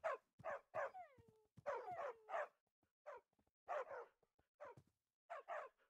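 A Minecraft dog in the FTB Revelation modpack barks repeatedly in quick, yappy bursts, with a few whimpering whines mixed in, close and clear with short pauses between barks.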